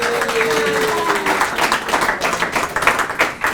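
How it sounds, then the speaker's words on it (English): Applause from an event audience at a Centre for Entrepreneurship gathering, steady clapping throughout with no voices over it. "So I think she deserves a huge round of applause"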